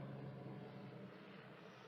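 A helicopter flies overhead as a faint, distant, broad rumble that holds steady and slowly eases off, with nothing else heard.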